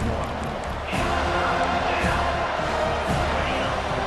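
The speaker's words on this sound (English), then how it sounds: "The roar of the crowd trying to fuel this defense to keep them pinned in their own end." A dense, steady crowd roar fills a college football video game stadium, FSU against Pittsburgh, swelling slightly as the home crowd urges the defense on, with no gaps throughout.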